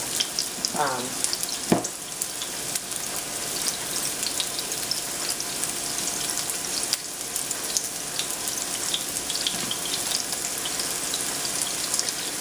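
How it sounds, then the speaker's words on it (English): Meatballs fry in a pan with a loud, steady crackling sizzle that runs the whole time, broken by a few brief clinks and knocks from cookware near the start. "So I'm going to fry these up"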